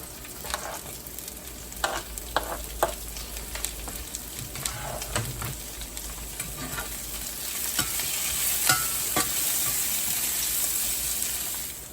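Onions and mushrooms frying in a pan for pork chops, a continuous close sizzle with scattered clicks and scrapes of stirring that grows a little louder and fuller toward the end.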